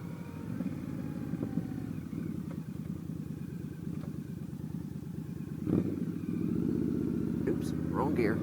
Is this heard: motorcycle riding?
yes